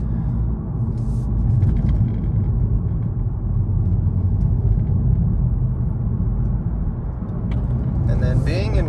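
A turbocharged daily-driver car taking curves, its engine and road noise a steady low rumble throughout while someone talks over it.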